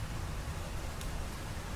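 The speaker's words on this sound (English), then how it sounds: "Forest before the rain." Forest before rain: a soft, steady broadband hush of air and distant rustling, quiet and even throughout, with one faint brief tick partway through.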